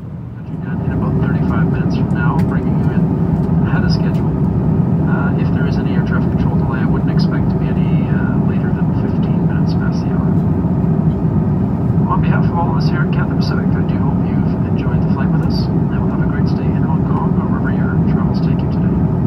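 Steady, broad roar of an Airbus A350 cabin in flight on a Cathay Pacific service descending into Hong Kong, continuous and loud throughout, with faint cabin sounds scattered over the drone.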